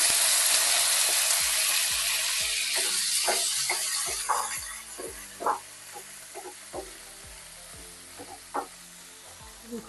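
Vegetables and ginger paste sizzle steadily in hot oil while a paneer vegetable chop filling is cooked, and a spoon stirs and scrapes the pan with scattered taps as the hiss slowly settles.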